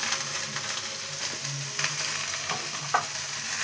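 Cabbage and eggplant stir-frying in a pan with a steady broadband sizzle and occasional scraping stirs, close and fairly loud, with no talking.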